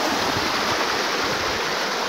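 Steady, dense rush of water flowing at the Nrusinghnath temple waterfall in Bargarh, Odisha, a loud continuous broadband roar close by with no voices.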